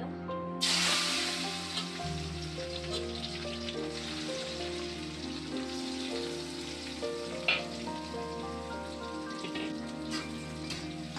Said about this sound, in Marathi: तर याच्यात आपण कांदा परतायला टाकूया.